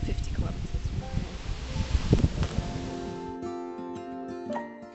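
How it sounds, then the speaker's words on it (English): Strong wind rustling through roadside trees and wild grasses in the Hungarian countryside, a steady broad hiss with gusty surges, close to the microphone, giving way to a musical tone near the end. "you can hear the rustling in the trees of the wind"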